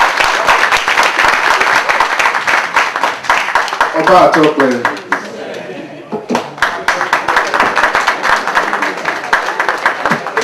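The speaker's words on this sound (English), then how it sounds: "A round of applause" Audience clapping at an Edo Union cultural display in Barcelona, a steady patter of many hands that briefly thins while someone speaks in the middle, then returns strongly.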